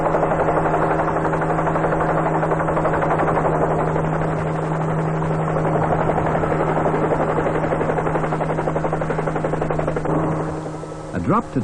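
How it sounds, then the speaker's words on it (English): Sioux helicopter in flight over Vietnam with the 1st Australian Task Force, a loud steady rotor chop and engine drone running continuously close by, fading slightly near the end. "The Sioux helicopter carries a pilot and up to 2 passengers"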